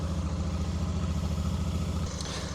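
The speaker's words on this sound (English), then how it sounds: "What a beautiful sound this engine makes." A Royal Enfield Shotgun 650 motorcycle engine idles nearby with a steady, even low-pitched thrum and regular pulsing, holding constant for about two seconds before easing slightly, with no speech over it.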